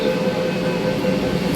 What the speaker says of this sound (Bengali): দেখেন প্রথমে মেট্রোর ডোরটা বন্ধ হলো, তারপর করিডোরের ডোরটা বন্ধ হয়ে গেল।